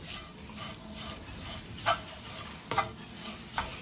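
Okra and gram flour are stirred and roasted in a pan for bhendi bhaji. Soft, rhythmic scraping strokes come with occasional sharp clicks of the spatula against the pan, fairly quiet, with no talking.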